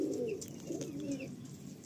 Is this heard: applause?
no